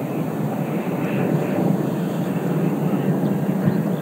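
A 16 kW JETFAN-130 electric ducted fan drives a 13 kg model jet on 16s batteries, giving a steady, loud roaring whoosh that holds evenly throughout, with wind buffeting at the microphone.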